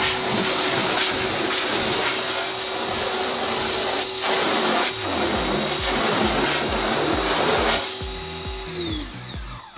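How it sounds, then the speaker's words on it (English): Water sprays under pressure in a flood rinse of a screen printing frame after degreasing. The rinse is a loud, steady hiss with a running pump hum, and it cuts off near the end. "Final step is going to be our flood rinse"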